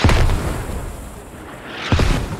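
Mortar fire and explosions in the military shooter Squad, with two heavy booms at the start and end and a rumbling roar between them, loud and close.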